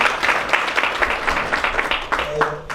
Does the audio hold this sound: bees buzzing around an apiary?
no